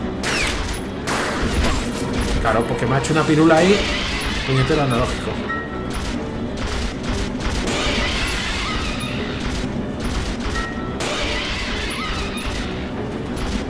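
Pistol shots fired at an enemy in the video game Resident Evil 0, a few sharp bangs mixed into game music and effects while someone talks over the play.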